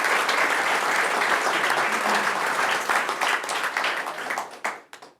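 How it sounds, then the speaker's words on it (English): A room full of people at a school board meeting gives a dense, steady round of applause that holds for about four seconds, then thins out into a few scattered claps and stops. "So let's give him another round of applause"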